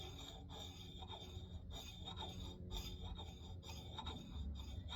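A metal file rasps along an axe bevel in short repeated strokes, each scrape a soft gritty pass, close and fairly quiet with no talking.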